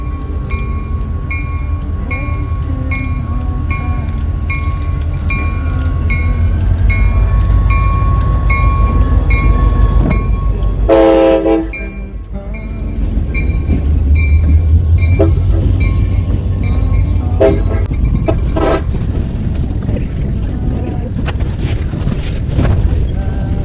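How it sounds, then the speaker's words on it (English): CSX B650 ethanol freight train rolling past at close range, a loud steady rumble of wheels and cars with clanking and brief squeals, dipping for a moment before the roar returns and continues. "This train would have to get out of the way for this B650 ethanol train."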